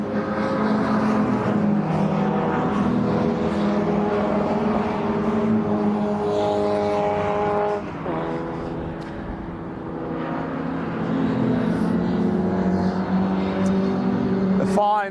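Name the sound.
MG Midget and Sprite race cars during qualifying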